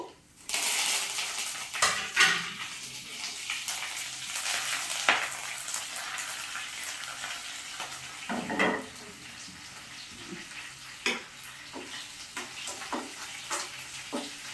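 Curry leaves crackle and sizzle in hot oil in a pan for a carrot and mango pickle, a steady loud fry with intermittent pops and a few utensil clinks.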